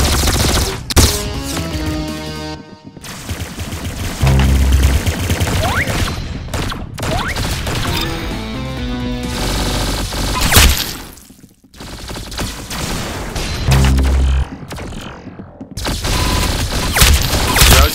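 Rapid bursts of gunfire from the Roblox game Arsenal crackle loudly and continuously, with sharp repeated shots and brief pauses between volleys; no talking is heard.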